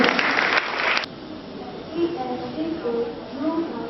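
A short, dense burst of audience clapping at a spelling bee lasts about a second, then gives way to quieter speech in a reverberant hall.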